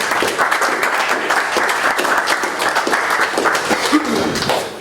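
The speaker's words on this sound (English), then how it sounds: "So let's give them another round of applause and make them feel at home." An audience at a weekly startup meetup applauds with steady, dense clapping for about five seconds, fairly loud and unbroken, with no one speaking over it.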